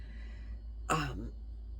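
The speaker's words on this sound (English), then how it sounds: "I put up with the cough so as not to be sleeping all the time" One short, quiet cough or throat-clear from a person, a single brief burst over a low steady room hum.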